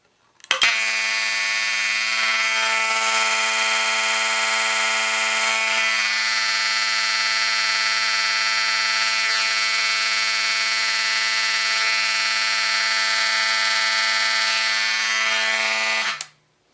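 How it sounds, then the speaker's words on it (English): A fire alarm set off by pulling a Mirtone pull station in a Monaco Vulcan system test, a loud, raspy continuous buzzing tone sounding unbroken for about sixteen seconds before cutting off abruptly. "let's pull the Mirtone pull station"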